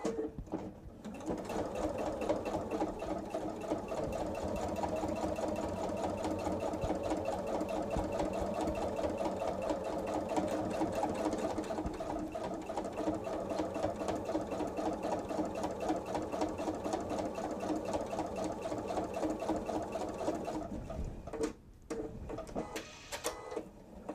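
A sewing machine runs in one steady, continuous burst while stitching up the sides of a wallet, a fast mechanical chatter close by that stops briefly near the end, with no talking.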